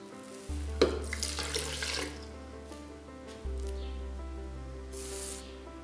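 Milk pours from a bag into a mixer bowl for a sponge cake batter, a soft splashing, trickling stream in bursts over a low steady hum, with no talking.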